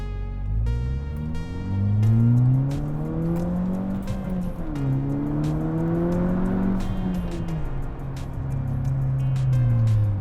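Stripped Volkswagen MK6 GTI with rear seats and spare tire removed accelerating hard, loud droning engine climbing through the revs with a brief dip at a shift, heard from inside a noisy, echoing cabin full of rattles and clicks.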